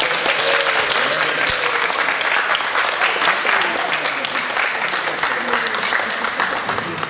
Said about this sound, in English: Let's give a round of applause for our new...